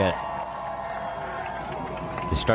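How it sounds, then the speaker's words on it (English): Large crowd of protesters at the LA riots, a dense continuous roar of many voices with scattered shouts and a louder burst of cheering near the end. "here's a little clip of the scale of the protests here"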